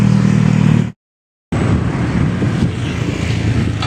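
Wind blowing outdoors at Plaza Mexico, a steady broadband rush buffeting the microphone, loud and close, cutting out briefly before resuming.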